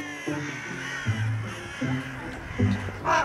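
Crows cawing in a city setting, several harsh caws in irregular bursts, fairly close, over a quiet background.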